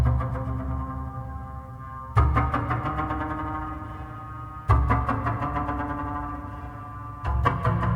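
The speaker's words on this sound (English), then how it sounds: "This one's called Harmonic Stabs, and what you're hearing is just one note at a time." Double bass harmonic stabs from Spitfire Speculative Memories, three sharp loud attacks each blooming into a sustained, shimmering chord-like tone that rings and slowly fades before the next hit.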